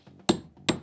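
Two sharp hammer blows drive nails back into a wooden mirrored hole template in a workshop, close and distinct, about 0.4 seconds apart.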